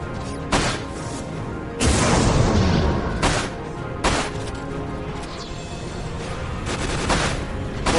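A video game gun fires triple bullets in a fight, heard as several sharp, booming blasts separated by short pauses, with a longer crashing burst in the middle, fairly loud and without talk.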